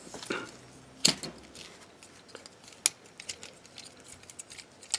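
Plastic clicks from the feet of a Transformers Titans Return Hot Rod toy being folded in: two sharp, close snaps about two seconds apart, followed by lighter ticks and handling noises, with no talking.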